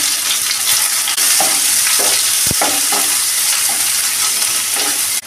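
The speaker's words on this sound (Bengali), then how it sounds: "এবার পেঁয়াজের কুচি দিয়ে দিলাম এর মধ্যে।" Chopped onion sizzles in hot mustard oil with dried red chillies, cardamom and cloves for a snakehead fish curry, a steady close frying hiss broken by occasional stirring scrapes.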